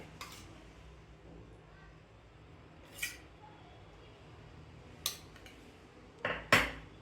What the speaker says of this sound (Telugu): ఇప్పుడు ముందుగా స్టవ్ మీద ప్యాన్ పెట్టుకుని 2 టేబుల్ స్పూన్ నెయ్యి వేసుకోవాలి.